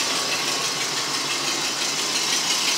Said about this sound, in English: See if it'll idle.